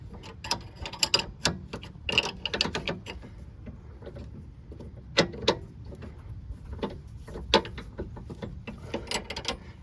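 An 18 mm wrench tightening the sway bar link on a 2006-2011 Toyota Camry, irregular close metallic ratcheting clicks and taps with quiet gaps between them.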